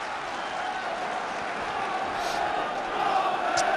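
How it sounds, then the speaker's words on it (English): Football crowd at Port Vale versus Doncaster Rovers applauding a move, a steady broad wash of clapping and murmur from a large stadium audience, swelling slightly toward the end. "Good applause there"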